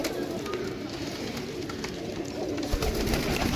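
Pigeons coo softly in a loft of fancy show pigeons, low murmuring calls repeating against a busy background of faint rustling and distant noise.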